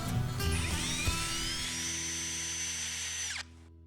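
A power drill whines at high speed, its pitch rising as it spins up, holding steady, then cutting off abruptly near the end, as a ground-down bit clears a hole in a boat's wheelhouse deck.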